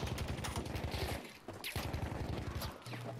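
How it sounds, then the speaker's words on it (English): Rapid automatic gunfire in Battlefield 5 battle royale, a steady loud burst of shots that pauses briefly and then resumes in a second fast burst with no talk. "The other guy's shooting."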